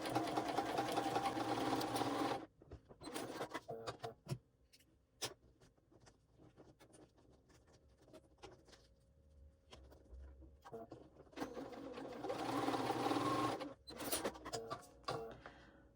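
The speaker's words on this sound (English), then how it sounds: "So top stitch each folded side." A domestic sewing machine top stitches a small folded strap keeper for a waist pack, running in two fast rattling bursts at the start and end with a quiet pause and light handling noises between.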